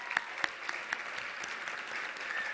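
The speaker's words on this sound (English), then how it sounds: "Could we give a little bit of applause for the board?" Applause from a gala audience for the North Star board at the 2015 North Star Community Gala, steady and moderate, with a few sharper claps standing out near the start.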